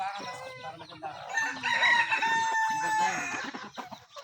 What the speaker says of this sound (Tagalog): Dito meron din silang mga manok.